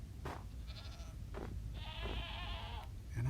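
Goats bleating in Minecraft: several wavering, nasal bleats in a row, one long drawn-out call in the middle, over a low steady game background.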